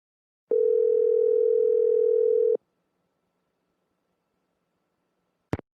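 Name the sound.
telephone line tone in Nancy Drew video game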